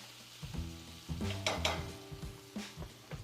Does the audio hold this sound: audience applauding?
no